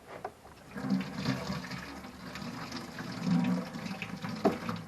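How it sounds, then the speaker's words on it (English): Water runs and splashes in a small homemade rinse sink made from an old detergent bottle, used to rinse engine parts or fingers during an oil filter cover replacement; a steady close trickle with two fuller surges. "now I can rinse parts or fingers with just water"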